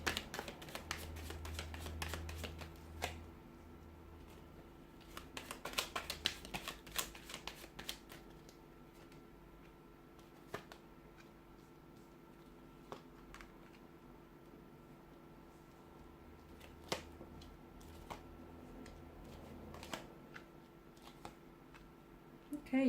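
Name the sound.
shuffling tarot cards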